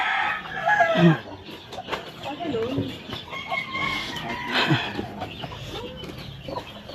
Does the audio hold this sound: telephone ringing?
no